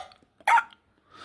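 A man eating a meal at home hiccups once, a single short, clear gulping hiccup standing alone in a quiet room, with faint shuffling before it.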